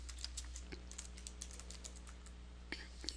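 Light, quick keystrokes on a computer keyboard, a rapid uneven run of soft clicks, faint and close, with a couple of slightly firmer taps near the end.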